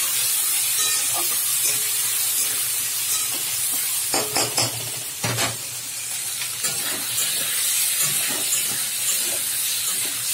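Black cumin and chopped onion go into oil left from frying fish, producing a hissing sizzle with sharp spitting pops and stirring clatter clustered in the middle, then settling back to a steady fry.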